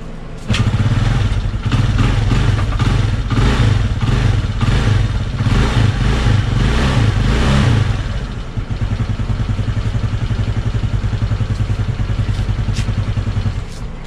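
A motorcycle engine runs steadily just after an engine and gear oil change, a loud close idle with a rough, clattering mechanical beat that stays constant for the whole stretch, easing slightly in level partway through, with no one talking.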